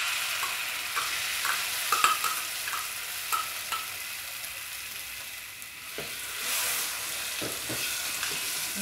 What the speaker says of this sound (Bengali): এখন এটার মধ্যে আমরা যে পেঁয়াজ মরিচ আদা রসুন তারপর টমেটো দিয়ে যে পেস্টটা করেছিলাম সেটা দিয়ে দেব